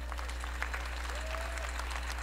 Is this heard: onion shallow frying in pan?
no